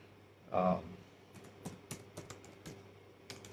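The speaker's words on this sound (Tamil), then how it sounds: "நான் இங்கே டைப் பண்ணுறேன்." Typing on a computer keyboard, heard as scattered, fairly quiet keystroke clicks in an irregular rhythm that follow a brief burst of voice near the start.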